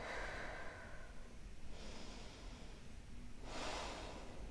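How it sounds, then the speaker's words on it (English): Slow, deep breathing during a yoga session, quiet breathy inhales and exhales, soft and close with no talk. "Breathing here."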